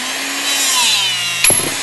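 Benner Nawman DC 20WH cordless rebar cutter working through steel bar, a steady high whining motor and strain that ends in one sharp crack as the bar breaks near the end, with no talking.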